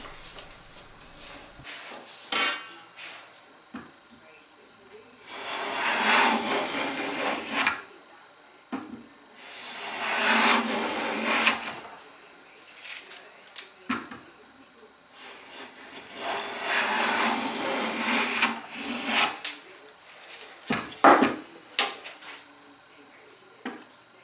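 A hand plane takes stop shavings from the middle of a wooden table component, close and clear, in several bursts of hissing strokes separated by quiet gaps and light knocks.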